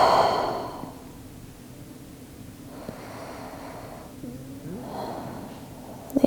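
A slow, deep breath drawn in through the nose during a yoga side stretch, audible close and soft, followed by quieter breathing.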